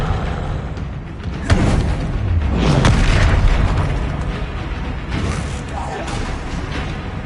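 Confringo spell explosion in the Hogwarts Legacy video game, a loud booming blast with a sharp onset and rumbling tail, close and heavy amid continuous in-game action.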